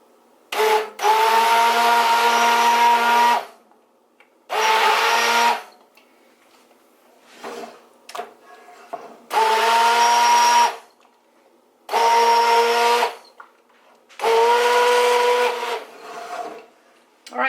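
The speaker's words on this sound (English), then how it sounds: "we'll use the immersion blender to blend that all together" An immersion blender motor whirs in five separate bursts of a few seconds each, blending chicken and cauliflower soup, with short pauses between, close and loud with no talking.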